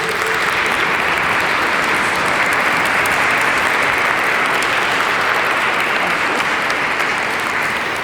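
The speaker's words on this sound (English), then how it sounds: "can we just start with a really big round of applause for all of tonight's music?" A large audience at an evening music event gives a sustained, dense round of applause, steady and loud throughout with no talk over it.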